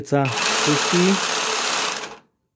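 A Parkside PSSPA 20-Li A1 cordless jigsaw cuts through a thick timber beam, giving a close, steady buzzing rasp for about two seconds before stopping abruptly. A voice briefly overlaps the start.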